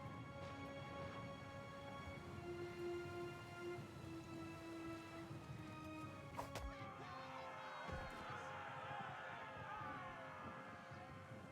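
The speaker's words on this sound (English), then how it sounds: "Storm's picking up! Take cover!" Steady rain and a low rumble of thunder during a storm at sea in Pillars of Eternity 2, a continuous wash of rainfall under sustained musical tones, with a brief sharp crack and deeper roll midway.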